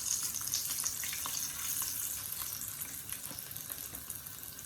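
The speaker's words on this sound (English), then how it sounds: "Fry those garlic in the oil." Steady crackling sizzle of garlic frying in hot oil, close and continuous, with a faint watery hiss underneath and no talking.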